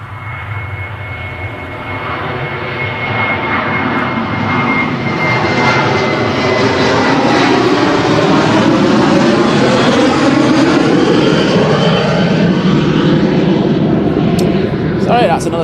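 A departing jet climbs out from Manchester Airport on a positioning flight, a loud continuous engine roar building and sweeping across over about fifteen seconds, with people talking nearby.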